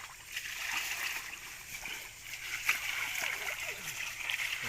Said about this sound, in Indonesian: kita siram di penyaringannya menggunakan ember